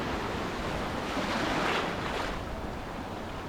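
Ocean surf rolls onto a beach in North Goa, a continuous broad wash of breaking waves with a gentle swell in the middle, mixed with some wind, and no voices.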